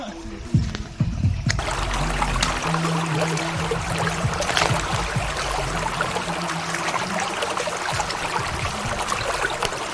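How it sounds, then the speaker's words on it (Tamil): A small natural waterfall and flowing stream at Wadi Dafta in the UAE make a continuous broad rush and trickle of water, steady and fairly close, with some handling noise at the start. "அந்த வாட்டர் ஃபால்ஸுடைய சின்ன சின்ன சத்தம் அதெல்லாம் கேட்டுக்கிட்டு"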